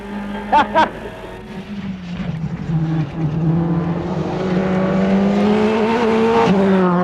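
A 2002 rally car tears along at over 100 mph on the Punchestown stage, its engine holding a loud, steady high-revving drone that climbs gradually, with a couple of sharp bursts near the start and a rising pitch toward the end.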